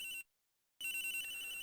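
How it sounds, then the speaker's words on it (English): Electronic phone ringtone in the Ace Attorney Investigations video game, a bright tonal ring that stops for about half a second then resumes, steady and fairly loud with no voices. "The ringing's coming from somewhere in here, sir."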